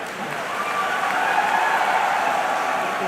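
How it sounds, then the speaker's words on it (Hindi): Applause from the audience at a Hindi comedy poetry gathering (hasya kavi sammelan), a continuous, fairly loud wash of clapping with crowd murmur blended in, steady from start to finish. "उस पर आपकी तालियां मिले"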